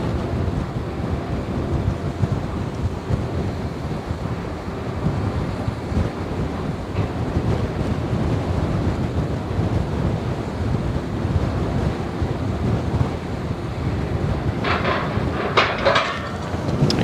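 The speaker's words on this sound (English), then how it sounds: "Except for the wind, it's a nice day though." Wind roars steadily across the bank of the Westerschelde river and buffets the microphone for the whole stretch, with a brief harsher gust near the end.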